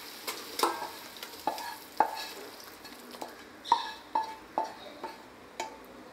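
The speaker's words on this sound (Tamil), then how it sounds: "இனிமேல் இதில் வந்து நம்ம இந்த சிக்கனை ஆட் பண்ணிடலாம்" Chicken pieces are added to rice in an electric rice cooker for chicken biryani, giving a series of soft scrapes and spoon taps against the pot, about ten irregular knocks, close and alone with no talk.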